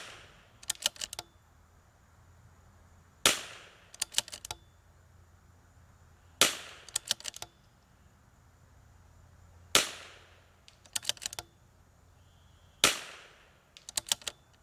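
.22 LR rifle fired at steel plates 150 yards away, five sharp cracks spaced about three seconds apart, each followed by a faint delayed ping of bullet on steel, outdoors with no talking.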